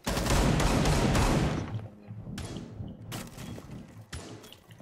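Video game gunfire rattles out in a loud rapid burst at first, then a few separate sharp shots crack at intervals with echoing decay between them.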